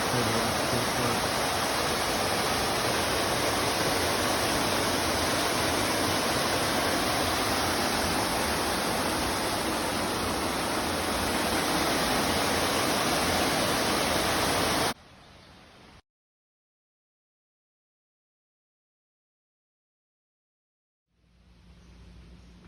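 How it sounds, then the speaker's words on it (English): Whitewater Falls on the Foothills Trail roars as a loud, steady broadband rush of falling water for about fifteen seconds, then cuts to silence before a fainter rush returns near the end. "It's just waterfall after waterfall over here at Whitewater Falls."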